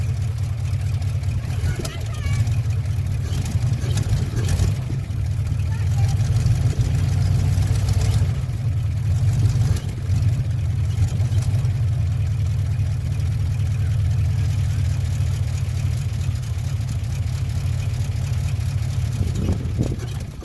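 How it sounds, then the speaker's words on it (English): A 1957 Chevy engine with a rebuilt carburetor idling steadily with a low, even rumble, close and continuous, while a person talks briefly over it. "I'm going to raise the idle a little bit more."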